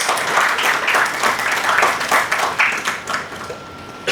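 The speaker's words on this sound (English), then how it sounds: "Please give a big round of applause." A crowd at a National Education Day event claps to welcome a keynote speaker, a loud, dense burst of applause that pulses steadily and then fades out toward the end.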